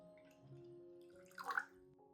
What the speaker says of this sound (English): I add 1 liter of clean water to dilute the solution